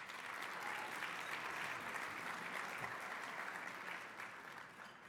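Sustained audience applause from a large crowd at a city State of the City address, thanking event sponsors; dense, even clapping at steady volume that tapers slightly toward the end.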